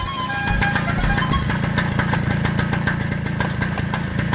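A vehicle engine idles after stopping, a loud, close, steady mechanical chug with a regular pulsing beat that carries on unchanged for several seconds.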